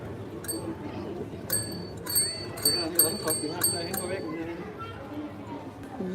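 Bicycle bells ring repeatedly on the streets of the old town of Bruges, several bright metallic dings in quick clusters over a busy background of crowd chatter and street noise.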